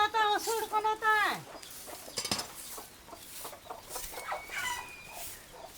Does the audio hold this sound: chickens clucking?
yes